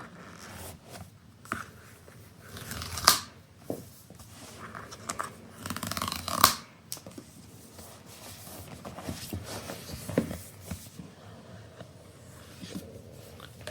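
Packaging for a custom-spec Mac Mini M4 Pro being unboxed: close rustling, sliding and tearing of cardboard and wrap, with a few sharper snaps and crinkles scattered through, no talking.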